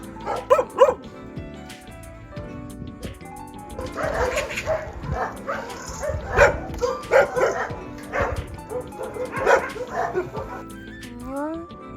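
Dogs at a shelter bark and yip in repeated bursts, some close and loud, with whimpers mixed in, while people talk throughout.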